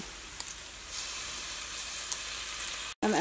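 Tomato pieces dropped into a pan of frying onions set off a steady, close sizzle that keeps hissing evenly, then cuts out briefly near the end.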